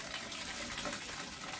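Water pouring steadily in a bathroom for a bath, a continuous close hiss and splash of running water with no voices over it.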